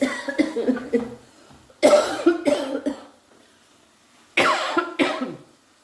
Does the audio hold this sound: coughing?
yes